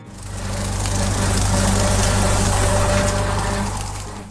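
A Ford 8N tractor engine runs steadily at a low, even idle, its deep rumble holding close and constant without any spoken voice.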